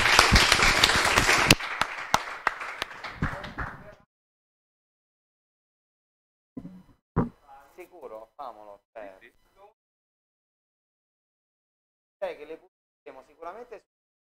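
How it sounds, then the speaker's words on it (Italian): A conference audience claps for a volunteer project manager in a burst of dense applause that lasts a few seconds and then dies away, followed by scattered speech. "facciamogli un applauso"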